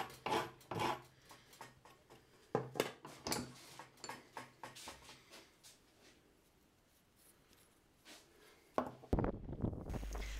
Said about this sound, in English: Now we need to file down the cutting edges.